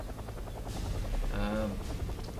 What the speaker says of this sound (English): Big, heavy transport chopper.